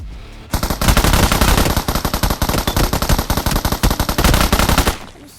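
Automatic gunfire rattles in BGMI (PUBG Mobile), a loud close burst of rapid shots in quick repeated bursts lasting several seconds, then cutting off.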